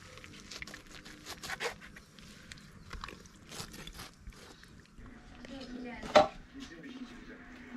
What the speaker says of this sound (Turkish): Arkadaşlar eti satırla doğruyoruz.